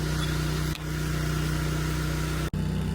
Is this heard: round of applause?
no